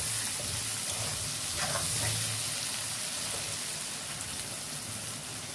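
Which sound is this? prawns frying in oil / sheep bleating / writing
prawns frying in oil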